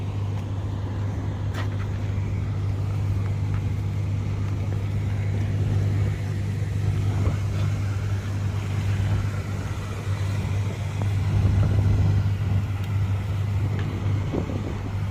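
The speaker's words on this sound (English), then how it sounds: "There is the blower fan is working in full speed every time." A Nissan Armada's blower fan stuck running at full speed from a shorted blower control module, a steady loud whooshing hum with a constant low drone throughout, no speech.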